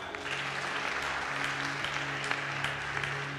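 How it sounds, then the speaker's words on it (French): A church congregation applauds to acclaim Jesus during an evening teaching service, a dense, steady burst of many hands clapping at moderate loudness throughout. "On peut acclamer Jésus."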